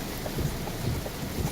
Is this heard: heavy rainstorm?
yes